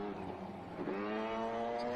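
A Mazda RX-7 rally car on a special stage of Rally Hawkes Bay in New Zealand roars past, its loud, sustained engine note shifting in pitch as it goes by.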